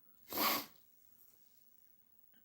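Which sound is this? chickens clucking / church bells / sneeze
sneeze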